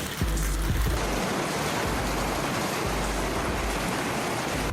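A hailstorm with large hailstones near Novosibirsk sets off a dense, continuous roar of hard pelting on surfaces, loud and close, with a few heavier thumps at the start.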